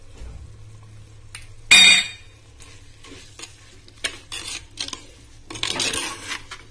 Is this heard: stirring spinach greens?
yes